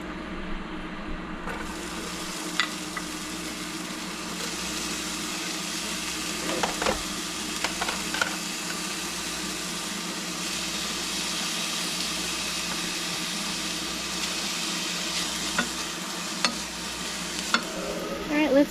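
Olive oil sizzling steadily in a pan for a long stretch, a close continuous hiss with occasional clinks and stirring sounds; no voices.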